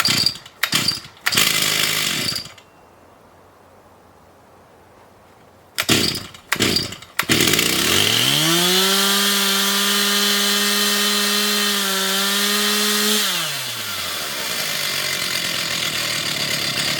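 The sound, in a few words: chainsaw engine running after idle adjustment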